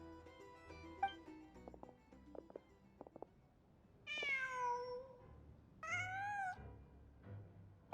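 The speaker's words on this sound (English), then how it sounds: "Just a cat." A cat in the video game Genshin Impact gives two clear, drawn-out meows a second or so apart, each loud and close, after a stretch of soft ticking and footstep-like game sounds.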